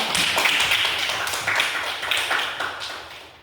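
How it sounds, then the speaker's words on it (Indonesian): A few people clap in a classroom during a school lesson, the claps coming in short, fairly quick bursts, close-sounding but light and thin rather than a full crowd. "Oke, tepuk tangan."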